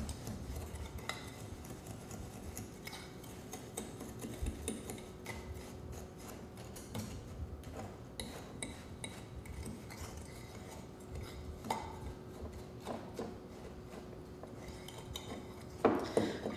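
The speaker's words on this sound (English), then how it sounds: "Blend it with a fork." A fork mixes a quarter cup of melted butter in a bowl, giving light, irregular scraping and clinking strokes against the dish with a few sharper taps near the end, close and quiet, with no talking.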